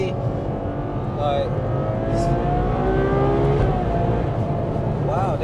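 Ferrari 812 Superfast V12 engine driving hard on empty roads, a loud steady roar with rapid upshifts sweeping through the gears, with people talking over it inside the car.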